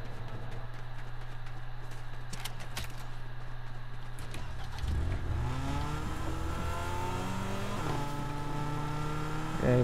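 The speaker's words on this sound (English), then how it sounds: "I guess I could drive the car and get back on the train." Car engine in the video game Fortnite, a steady drone that climbs into rising, revving harmonics as the vehicle accelerates, with a second rev swell near the end over constant game noise.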